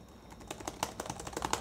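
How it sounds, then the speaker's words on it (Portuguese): Rapid key presses on a new Apple keyboard, a steady patter of light clicks with a few sharper taps, close and clear with no talking. "E o teclado está demais."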